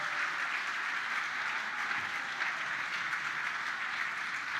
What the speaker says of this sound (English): You got to clap for teachers.